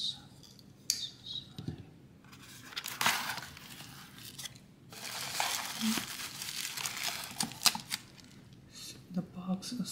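Tape and cardboard tearing and crinkling as a well-taped box is opened, with close, irregular ripping bursts and rustles at modest level and brief quiet gaps between them.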